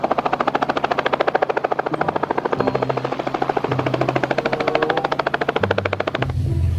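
A toy helicopter in flight, a loud, close rapid chopping whir from its rotor that runs steadily and pulses slightly, then cuts off abruptly near the end.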